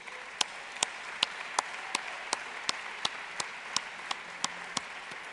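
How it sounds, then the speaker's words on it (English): Applause at a formal evening gala with an orchestra present, a quiet, sparse patter of clapping with distinct, regularly spaced louder claps over several seconds. "Big round of applause, please."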